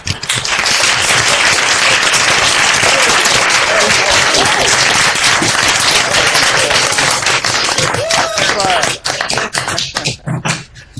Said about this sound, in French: on donne une bonne main d'applaudissement à Steph